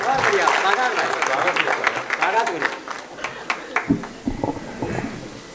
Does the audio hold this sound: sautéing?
no